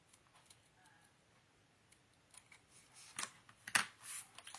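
Scissors cut paper for a scrapbook album, a few faint snips early, then sharper, louder crisp cuts clustered toward the end, close by with no talking.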